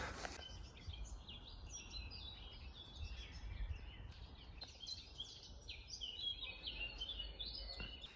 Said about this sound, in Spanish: No sé si escucháis a los pájaros.